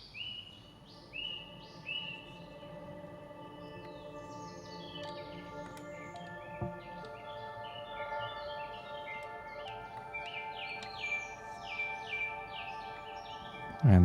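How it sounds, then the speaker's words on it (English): Outdoor field recording of birds, played back through a WINGIE synthesizer, gives many chirps and tweets layered over sustained resonant drone tones, steady and moderately quiet throughout. "So we have some birds, we have some field recordings from outside"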